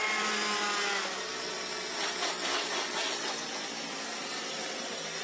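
Junior kart race car at Mariembourg circuit in the BNL final, engine droning and rising as it brakes over the curbs through the turns, a steady mid-distance whine with no voices.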